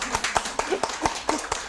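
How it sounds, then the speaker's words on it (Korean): A few people clapping at the end of a lecture class, a sparse run of distinct hand claps at an uneven rhythm, close by and moderately quiet, with no talking. "박수 한번 칠까요?"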